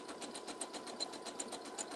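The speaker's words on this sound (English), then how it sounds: "I'm going to do a zigzag stitch" Sewing machine stitching a zigzag seam on a fringe skirt, a fast steady rhythmic whirr and clatter, close up and continuous with no talk.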